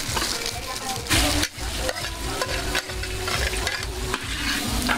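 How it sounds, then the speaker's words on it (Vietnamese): Rice being stir-fried with dried salted fish in a pan, a steady loud sizzle with repeated scraping stirs, at a rural wedding feast kitchen. "Bây giờ mình đang chuẩn bị chiên cơm. Cơm khô cá mặn."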